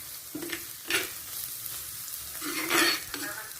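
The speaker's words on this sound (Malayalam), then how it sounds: "പിന്നെ നമ്മൾ ചതച്ച് വെച്ചിരുന്ന വെളുത്തുള്ളി, ഇഞ്ചി, കൊച്ചുള്ളി, പച്ചമുളക് ഇവ ഇട്ട് നമുക്കൊന്ന് വഴറ്റി കൊടുക്കാം." Crushed garlic, ginger, shallots and green chili sauté in hot oil for a fish curry: a steady sizzle broken by bursts of spoon scraping and stirring against the pan.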